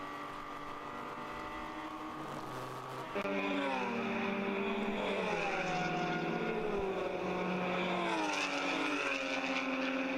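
Porsche Boxster race cars lapping Watkins Glen in a ChampCar endurance race, a steady loud engine drone with rising and falling pitch as the car shifts and works the curbs, heard from onboard.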